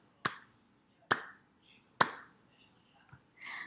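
Three sharp, close hand claps ring out about a second apart, followed by quieter faint sounds.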